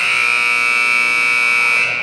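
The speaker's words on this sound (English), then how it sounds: "we're looking at that buzzer in the third quarter" A loud, steady electronic buzzer sounds at a girls' high school basketball game as the third quarter ends, one continuous blare lasting about two seconds before cutting off.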